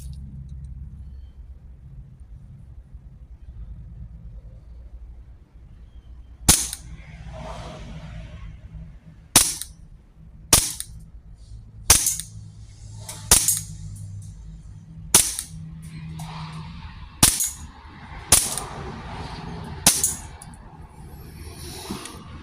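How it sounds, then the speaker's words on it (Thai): An Army R34 Glock 34 gas blowback BB pistol fires at a paper target about ten metres away, nine sharp separate cracks spaced a second or two apart over a quiet low background. "มาดูความแม่นยำว่าผมจะยิงโดนไหมนะครับ"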